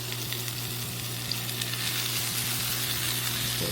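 Slices of panettone French toast fry in a hot pan, giving a continuous close, loud sizzling hiss with faint crackles throughout and no talk.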